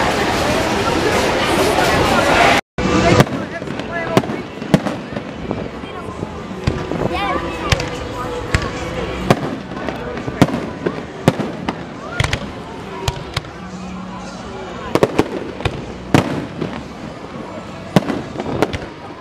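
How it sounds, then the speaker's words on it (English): Fireworks at the Jersey Shore near Atlantic City crack and pop in irregular bursts, some sharp and close, others more distant, over a background of crowd chatter and a few nearby voices. "where are you watching the fireworks at?"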